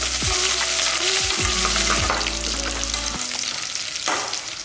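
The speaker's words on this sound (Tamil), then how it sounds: "எண்ணெயிலே போட்டு நல்லா வதக்கிக்கலாம்." Cashews, peanuts, curry leaves and crushed garlic sautéing in hot oil, giving a steady loud sizzle and crackle with clinking stirring sounds near the start and no voices.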